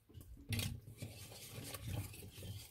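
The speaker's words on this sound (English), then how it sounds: "Sometimes I use a whisk. You can just do a quick whisk." Einkorn bread dough is briefly mixed with a whisk in a bowl, giving soft rhythmic scraping and light clinks against the side, close and quiet, no talking.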